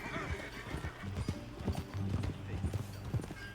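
Horse hooves clip-clop in a steady rhythm while riding in a Western video game, close and fairly quiet, with a brief whinny and a voice speaking over the hoofbeats.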